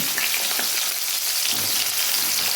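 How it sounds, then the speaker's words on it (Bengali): Vegetables for shukto, including papaya and drumsticks, fry in hot oil in a dense, continuous close sizzle with light stirring, no voices. "এই তেলের মধ্যে আমি সবজিগুলো ভেজে নিলাম"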